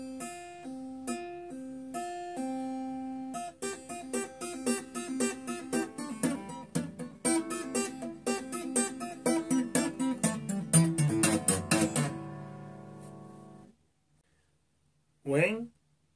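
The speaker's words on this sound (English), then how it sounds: "left hand also can make sound, pulling and hammering," Quiet guitar legato with the left hand pulling off and hammering on, giving a fast run of ringing plucked notes without picking, then a pause and a brief final sound.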